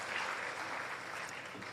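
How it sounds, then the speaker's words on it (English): Faint, steady applause from an audience at a municipal media activation and launch event, a short burst of many hands clapping with no voices. "Let's give her a nice round of applause"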